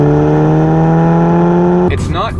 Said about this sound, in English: This exhaust, for example, is a CTS turbovac exhaust.